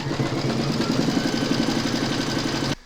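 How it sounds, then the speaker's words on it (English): An embroidery machine stitches round six of a fabric coffee placemat held in a hoop, giving a steady, rapid mechanical whirr with a fast ticking pulse. It runs close and continuous, then cuts off just before the end. "Pop your hoop into your machine and stitch round number 6."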